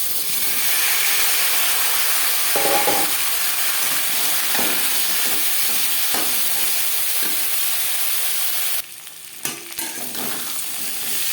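Cut potato pieces dropped into hot oil with fried bay leaf for a Bengali fish curry, a steady loud sizzle and hiss with occasional stirring clatter, cutting to quieter bubbling near the end.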